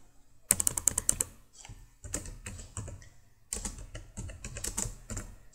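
Computer keyboard keys clatter in quick bursts while Java code is typed, near and fairly quiet, with short pauses between runs of keystrokes.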